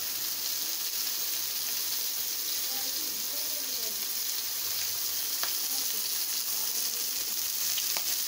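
Fish fry in oil in a home kitchen with a steady, continuous sizzle and a few faint clinks along the way. No one speaks.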